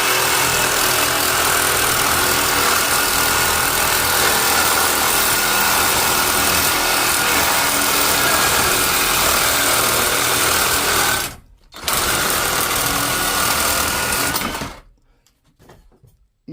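A Sawzall reciprocating saw with a badly worn blade cuts scrap metal into five-to-six-foot lengths, a loud, steady buzzing rasp running continuously before a brief pause, then resuming and cutting off near the end.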